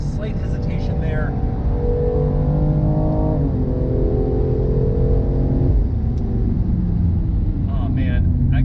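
A 2019 BMW M2 Competition laps a circuit, its engine revving loud and close, climbing in pitch, dropping at a gear change, then pulling again, with a voice talking over it.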